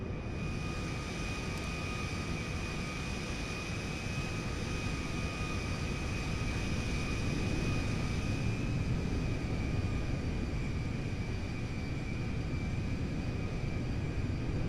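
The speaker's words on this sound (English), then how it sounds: "let's taxi out of here, and let's see what the IL-76M is all about" An IL-76M four-engine jet transport taxis in GTA 5, its engines producing a steady, moderately loud whine and roar with a constant high-pitched tone, unbroken by speech.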